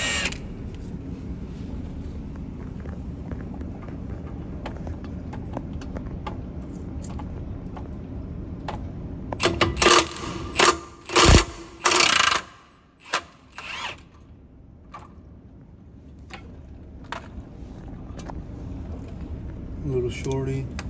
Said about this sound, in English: to remove the brake caliper bracket, we're going to remove this one